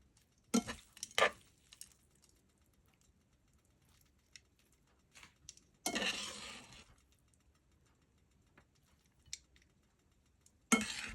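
Bihon noodles tossed and stirred in a pan make scattered scraping and clattering bursts, a few loud and close, with quiet gaps between them and no talk.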